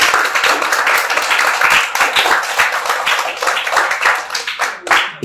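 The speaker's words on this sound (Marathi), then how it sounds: "पुन्हा एकदा अमोल सर आणि या सगळ्यांसाठी अगदी जोरदार टाळ्या वाजल्या पाहिजेत।" An audience at a padya puja ceremony breaks into loud, close applause, a dense, steady burst of many hands clapping that slowly thins toward the end.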